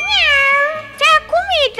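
Floppa, a cat character in a Roblox video game, gives three loud, close, bright meows in quick succession, one long and two shorter.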